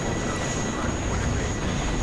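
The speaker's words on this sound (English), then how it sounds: "I am actually going to be making good use of this helicopter." Mi-17 helicopter in the video game WARNO, a steady loud rotor and engine drone that stays constant throughout with no speech.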